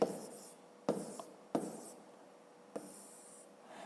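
Quiet scratching of a pen writing numbers on paper for a multiplication sum, with soft strokes broken by a few sharper taps as the pen touches down and lifts.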